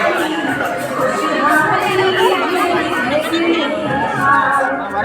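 Dense festival crowd at the Patnagarh Lakshmi Puja, a loud, continuous murmur of many overlapping voices close by, with occasional children's shouts rising out of the chatter.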